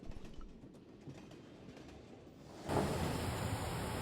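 A train in the video game Broken Sword Reforged rolls along rails. A faint rumble swells suddenly into louder, steady wheel-on-track noise with a thin high squeal.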